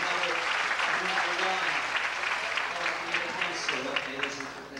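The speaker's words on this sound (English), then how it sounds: "Give them a nice round of applause, ladies and gentlemen." An audience applauds in a dense, steady clatter of clapping that fades slightly toward the end, with voices speaking over it.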